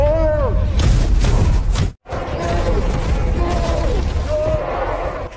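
Heavy cannon fire in a dramatised battle scene, with deep booming blasts layered over a dense rumble. It breaks off in a brief silence and then resumes, while a narrator-like voice and other sounds weave through it.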